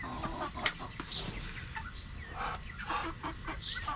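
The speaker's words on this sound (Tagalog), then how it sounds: "So lalagyan ko muna yung ating mga manok sa loob." Backyard chickens clucking and murmuring near a garden, several birds giving soft irregular clucks and short calls, fairly close but quiet, with a sharper note early on.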